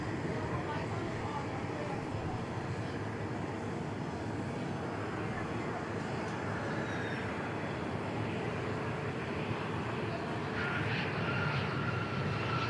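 A Bombardier Challenger business jet lands at Dallas Love Field, its engines a steady, broad, distant roar that swells slightly near the end, with faint voices in the background.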